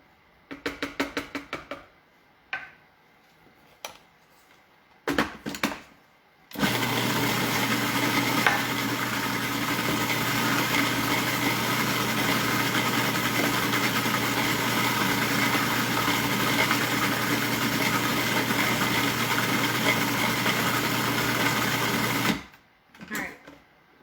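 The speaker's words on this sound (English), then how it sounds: "So I'm gonna mix this one more time," A kitchen mixer whirs steadily for about fifteen seconds while blending food for a healthy holiday appetizer, loud and constant, bracketed by brief clattering and handling sounds before and after.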